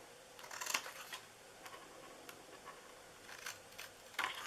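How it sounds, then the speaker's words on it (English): Scissors snip through paper for a homemade Mother's Day gift box, giving several quiet, crisp cuts spaced irregularly against a faint, steady background hum. "We're going to actually cut these off here on the top"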